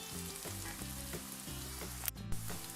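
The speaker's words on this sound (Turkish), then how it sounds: "İlk yemeğe başlarken baharatları yakmamızın nedeni, baharatlar yanınca daha güzel bir lezzet katıyor." Spices fry in a hot pan for an Indian egg curry, a close, busy sizzle with a rhythmic stirring pattern and a couple of sharp utensil clicks near the end.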